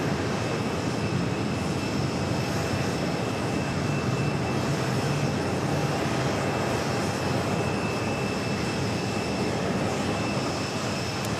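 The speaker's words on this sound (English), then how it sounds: "We do have Cathay Pacific Flight 831 will be heading back to Hong Kong at a 777 at 300ER. Starting its taxi" A Cathay Pacific Boeing 777-300ER taxis at JFK airport, its jet engines giving a steady, broad, continuous roar with a high whine running through the whole stretch, loud and without voices.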